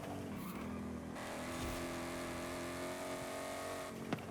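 A Mustang race car takes a corner in fourth gear in a racing game. The engine holds a steady drone and tires squeal faintly, with no voices.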